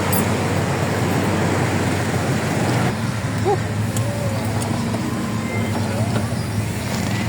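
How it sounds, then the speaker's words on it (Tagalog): Heavy road traffic roars as a continuous, dense wash of engine and tire noise beside a street crossing, with a faint voice now and then underneath. "Napaka-traffic eh."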